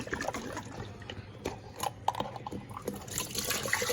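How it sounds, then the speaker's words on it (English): Tap water runs into an emptied glass sauce jar in a home kitchen, a close, steady splashing gurgle that rises in pitch and brightness as the jar fills. "I'm gonna go fill up this jar with water."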